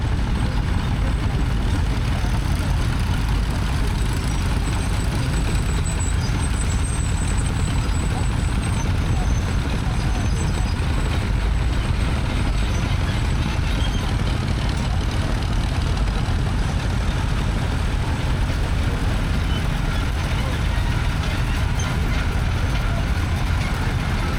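Heavy tractor engines rumble and roar continuously at close range, a dense, unbroken mechanical drone, as tractors drive up and down at a steam and country fair.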